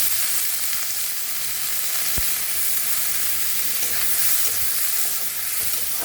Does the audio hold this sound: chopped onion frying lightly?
yes